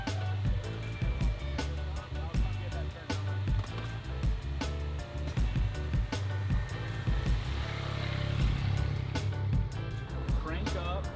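A 2018 Yamaha MT-09 motorcycle fitted with a GPR exhaust idles and revs, its low engine rumble running steadily throughout while people talk nearby.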